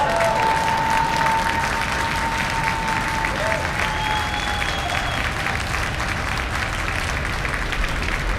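A SpaceX rocket with Merlin 1D engines lifts off, its roar a steady, dense rumble that fills the whole clip, loud and unbroken, with faint tones and some talk underneath.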